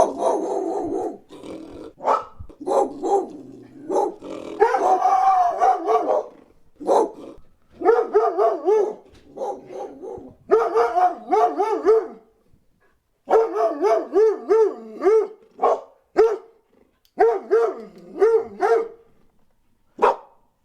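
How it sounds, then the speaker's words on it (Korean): Recorded dog barking played back as a dry mono sound file: a loud, close run of repeated barks and yips in uneven bursts with short gaps, some growling in between, and no voices. "제가 어디선가에서 개가 짖는 소리를 하나를 데리고 왔습니다"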